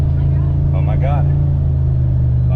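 A turbocharged GMC Yukon cruises at 45 mph in second gear, its engine holding a steady low drone with road noise, close and constant inside the cabin, with a brief faint voice.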